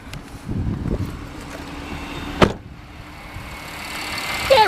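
A 2012 Audi Q5 Premium Plus engine runs quietly at idle with a low steady hum, broken by a sharp click midway and a brief chirp at the end.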